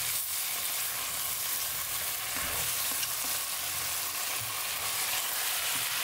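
Meat and onions frying with seven-spice for maqluba, a loud, dense and continuous sizzle with soft scraping as the pan is stirred.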